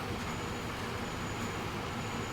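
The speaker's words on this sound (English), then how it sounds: "my food train coming in now" A food train pulls into a station in the video game Transport Fever, a continuous rumbling rail noise of wheels and engine at a steady, moderate level with no talking.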